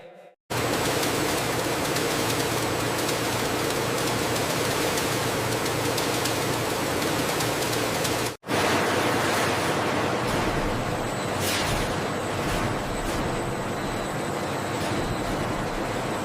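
Pressurized water showers spray and rinse moringa leaves on a factory processing line, a loud, steady hiss that runs unbroken apart from one brief drop, with no voices.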